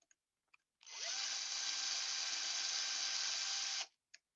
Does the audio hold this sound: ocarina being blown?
no